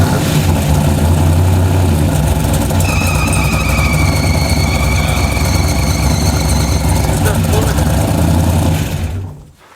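A junkyard Hemi engine in a drag car runs loud and steady at a rough idle close by, with a high whine drifting above the low rumble before it cuts off near the end.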